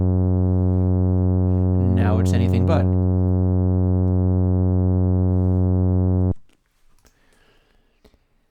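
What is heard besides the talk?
distorted sine wave tone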